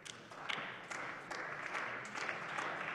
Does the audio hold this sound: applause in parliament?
yes